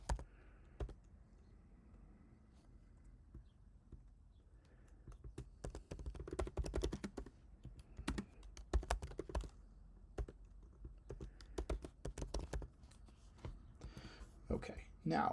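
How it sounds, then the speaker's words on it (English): Rapid, quiet keystrokes on a computer keyboard while code is typed, irregular bursts of clicks close to the microphone and growing busier midway. "just for the moment, I'm just going to write some code."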